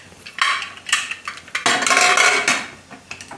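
A metal pressure cooker lid is fitted and closed on a cooker set on a gas stove, producing several sharp metallic clanks and scrapes in quick succession with a longer grinding turn near the middle, close and loud, no talk.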